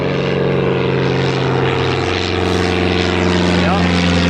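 A propeller aircraft takes off at Newcastle Airport, its engines droning loud and steady with a strong tonal hum and a pitch shift midway, heard close and without talk.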